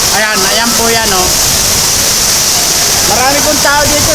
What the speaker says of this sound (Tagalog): Napakalakas po ang agos po.